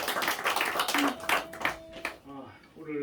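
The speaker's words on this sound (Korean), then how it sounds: "우리 하나님께 영광의 박수를 드리겠습니다" A church congregation gives a round of applause during a Sunday afternoon service: dense clapping for about two seconds, then fading as a voice takes over.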